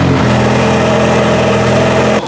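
Luxury sports car engine idling loud and close with a rich, steady drone, cutting off abruptly just before the end.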